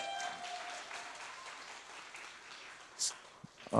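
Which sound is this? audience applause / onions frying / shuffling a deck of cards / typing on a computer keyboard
audience applause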